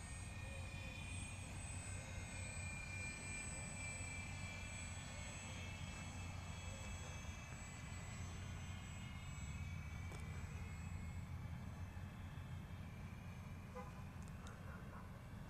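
An Airfield Sky Trainer 182 electric model airplane flies overhead with a steady, continuous motor drone and whine, fairly faint and distant, holding an even level throughout.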